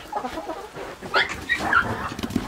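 Backyard chickens cluck and chatter in short bursts while being fed leftover fruit, close by and fairly loud with no talking over them.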